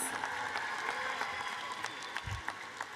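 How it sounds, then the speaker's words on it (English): Sustained applause from a large crowd at a graduation and Kente ceremony, a dense wash of clapping heard from a moderate distance, with a few voices mixed in. "Let's give her one more round of applause."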